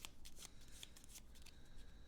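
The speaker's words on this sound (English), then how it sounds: "Let's shuffle these up." Skill cards for the Battlestar Galactica board game are shuffled in quick, quiet riffling bursts at close range, with no voices.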